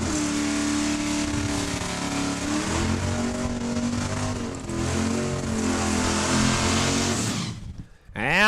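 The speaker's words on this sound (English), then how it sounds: "looks like the Gremlin out of Frobisher, Saskatchewan will cross the line first" A Gremlin drag car roars at full throttle down the strip at Saskatchewan International Raceway, a loud sustained engine howl that holds steady before cutting off abruptly near the end as it crosses the line.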